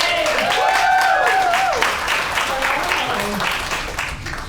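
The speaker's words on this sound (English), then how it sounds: "Let's give her a round of applause, everybody." An audience claps for someone speaker on stage, a moderate round of applause that tapers off, with a voice whooping and talking over it at the start.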